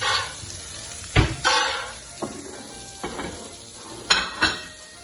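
Clinks and clatters of plates and cutlery being handled nearby, several sharp knocks spaced irregularly with quieter scraping between them.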